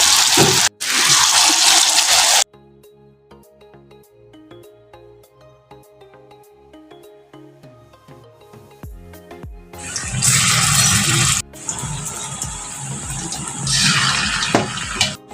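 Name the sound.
soybean pakoras frying in oil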